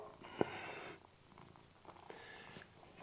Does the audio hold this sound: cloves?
no